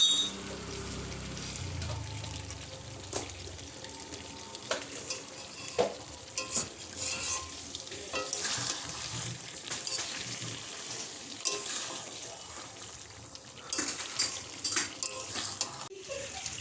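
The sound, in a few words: stirring chicken curry (meat) in a pot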